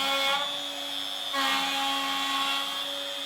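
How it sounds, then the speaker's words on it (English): A trim router running in a melamine jig while flattening a wood slab makes a loud, steady high-pitched whine with a droning tone, and its pitch shifts slightly as the bit bites into the wood. "I'm going to be using the router jig behind me"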